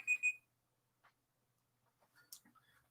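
Two quick electronic beeps from a phone alarm set off by Google Assistant sound at the start, followed by near silence and a few faint, scattered sounds.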